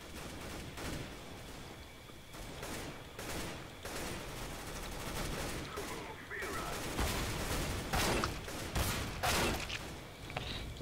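Repeated gunfire and shotgun blasts from a CS:GO multiplayer match, bursts of shots scattered through the round at varying distances, with a player talking over the action.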